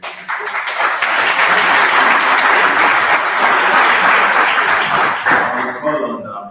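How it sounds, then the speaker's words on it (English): Sustained, loud applause from a conference audience at a pomegranate symposium, a dense wash of many hands clapping for about five seconds before tapering off, with a few voices near the end. "Can we keep the right round of applause, please?"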